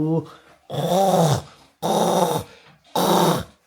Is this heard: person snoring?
yes